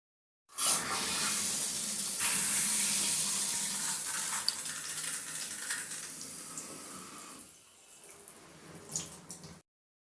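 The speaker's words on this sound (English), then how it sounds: "Just as he steps out of the shower" Steady rushing spray of a running shower in a radio drama, close and continuous, with a slight change in the flow near the end before it cuts off.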